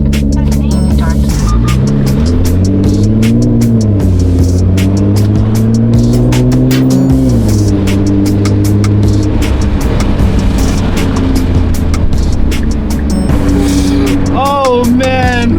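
A Nissan GT-R R35 drives at an easy pace after its first start of 2026, its engine note rising and falling in a steady near drone with a few shifts, while a person talks over it.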